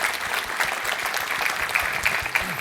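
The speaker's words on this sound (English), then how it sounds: "You can give applause" Audience applause in a lecture hall after a talk on vulnerability management at a hacker congress, a continuous crackling wash of many hands clapping at moderate volume, heard from some distance.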